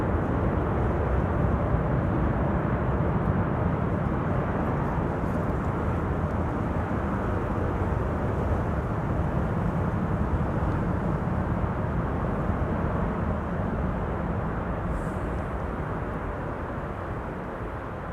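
An airliner landing at Amsterdam Schiphol uses its thrust reversers, making a long, steady, dense roar that fades slightly toward the end, with no voices present.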